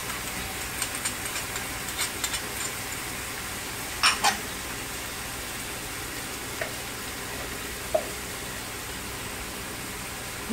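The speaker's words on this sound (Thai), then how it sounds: "แล้วก็ผัดให้เข้ากันนะคะ" Squid stir-fried with garlic, black pepper and oyster sauce in a pan over raised heat, a steady loud sizzle with a few sharp clinks of the utensil against the pan.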